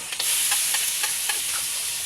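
Garlic and onion sauté in a hot pan with a loud continuous hiss, punctuated by regular light stirring taps about every quarter second, close up.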